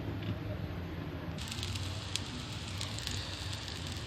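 Potato tikki shallow frying in hot oil gives a steady sizzle and crackle, growing brighter and spattering after a moment, heard close with faint background noise.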